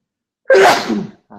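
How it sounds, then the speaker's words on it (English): A single loud, close sneeze with a sharp burst followed by a trailing exhale, then a brief voice sound right after. "I had to sneeze, but it's not coming out."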